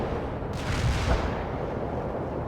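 Gunfire from the real-time strategy game World in Conflict, one heavy booming burst that swells and fades into a rumbling battle backdrop lasting a couple of seconds.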